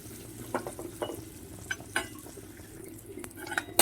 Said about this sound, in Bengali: একে একে একমাত্র কিশমিশ ছাড়া সমস্ত ড্রাই ফ্রুটসটা আমি এভাবে হালকা করে ভেজে নেব